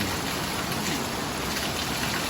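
Steady rain falling in cold, wet weather, a dense even patter filling the whole moment with no voices over it.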